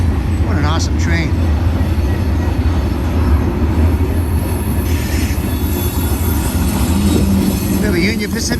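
A heavy BNSF freight train rolls steadily past at close range near Sullivan's Curve at the old Cajon depot site, with continuous loud wheel rumble, rail clatter and high wheel squeal, and a voice speaking over it.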